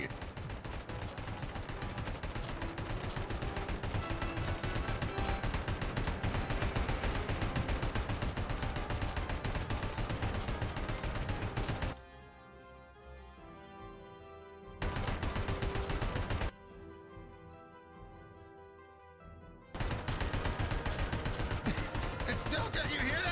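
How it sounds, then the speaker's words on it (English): Continuous gunfire in Robocop: Rogue City from a robot still shooting a dead body, a dense loud barrage that drops out twice briefly, with a voice talking over it. "Why is it still shooting at a dead body?"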